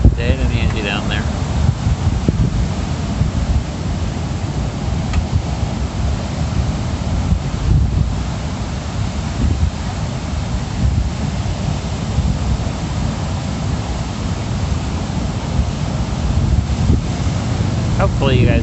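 Strong wind buffets the microphone at Hangars Beach in Florida, a continuous loud rumbling roar that never lets up, with faint surf-like wash beneath it.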